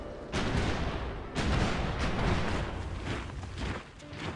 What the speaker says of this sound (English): They're currently being attacked by artillery